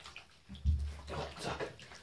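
Water draining and sloshing in a bathtub while a dog is washed, a low gurgling wash of sound with soft splashes, fairly quiet and close.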